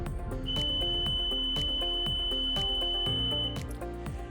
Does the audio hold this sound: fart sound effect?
no